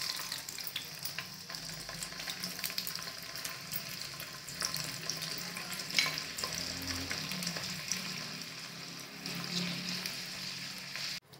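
Garlic sizzles in oil that has partly cooled while green chili pickle is made, with a steady close frying hiss and occasional stirring scrapes, and no talk.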